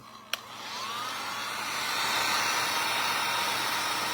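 A hair dryer blows on freshly applied IOD paint inlay, starting with a click and then a steady, close, loud whooshing hiss that holds throughout.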